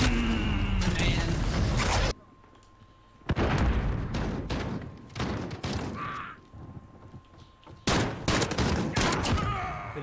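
Gunfire in a first-person shooter with a Kar 98 rifle and Desert Eagle pistol: loud bursts of rapid shots in clusters separated by brief lulls, with a voice talking over parts of it.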